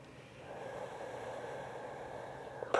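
Slow, steady breathing during a gentle yoga stretch, one long soft exhale-like rush heard close and quiet over low room hum, ending with a brief sharper sound.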